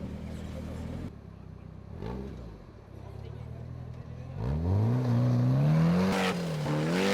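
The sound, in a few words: off-road vehicle driving through sand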